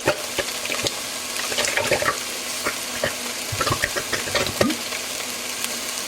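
A can of stewed tomatoes is poured into a slow cooker, giving wet sloshing and splashing with a few soft clunks as the chunks land, close and fairly loud.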